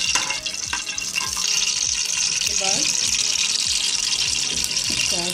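Hot water pours off boiled rice through a strainer into a sink, a steady close rush of splashing liquid with faint clinks, while someone talks.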